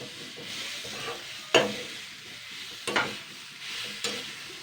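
Red lentils and green tomato frying in a pan are stirred, a soft continuous sizzle broken by three or four sharper scraping strokes of the spoon, close and moderate in level, no talking.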